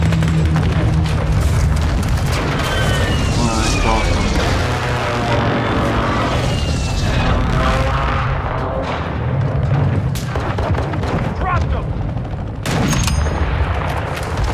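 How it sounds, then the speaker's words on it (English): Friendly airstrike in the Call of Duty Modern Warfare 2 (2022) ground war mode, a long stretch of loud booming explosions and rumbling gunfire with whistling sweeps, continuous and dense throughout. "Friendly airstrike in the AO."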